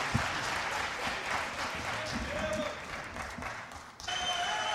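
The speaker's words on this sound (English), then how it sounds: "Please hold your applause till the end." Applause from an audience at a board of trustees meeting, a dense spread of clapping that holds steady for several seconds, fairly distant and moderate in level, with a brief dip before it resumes.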